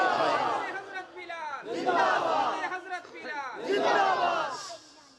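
A crowd at a religious gathering in Basti Diwan Wala, Khangarh, chants the takbir slogan in loud, rhythmic bursts of massed voices, three swelling waves with brief dips between them.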